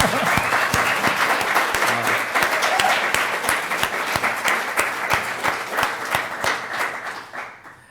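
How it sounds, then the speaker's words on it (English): A live audience claps in a quick round of applause for an emergency medicine physician at a research talk, with dense steady clapping throughout that fades out near the end. "Quick round of applause"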